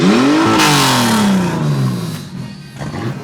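Stockcar number 135 firing up at Paradise Valley Speedway during a teams championship night, a loud close engine roar rising then settling into a throaty idle under a rumbling crowd-and-track background.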